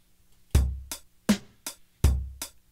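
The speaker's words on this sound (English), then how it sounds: "And what you hear is my drum sequencer playing." A drum machine, an external drum sequencer controlled by Logic, plays a simple beat: punchy kick-and-snare hits alternating with lighter hits in a steady rhythm, clean and alone.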